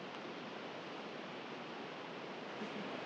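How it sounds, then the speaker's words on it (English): A river swirls near La Junta, Cochamó, in Patagonia, Chile, as a steady, soft broadband rush with no voices. "I love how the river's just swirling down here"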